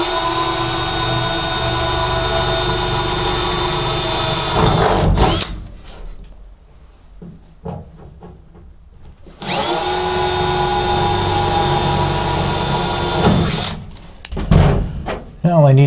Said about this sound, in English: drill out a little small 1/8 inch hole